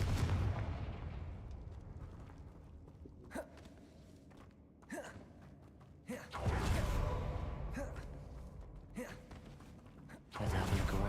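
Confringo fire spell from the Hogwarts Legacy video game, heard as several sharp booming blasts over a low rumbling game soundtrack, with one big explosion midway and another near the end.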